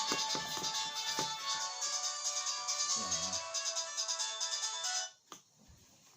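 A telephone ringtone plays a bright, repeating melodic ring close by for about five seconds. It cuts off, followed by faint handling sounds and a brief voice.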